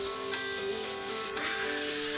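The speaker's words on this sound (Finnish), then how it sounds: "Hio pinta tasaiseksi ja poista hiontapöly kunnolla" Sanding of dried plaster filler on a plasterboard wall, a continuous abrasive rubbing that holds steady, close and fairly loud throughout with no pauses or speech.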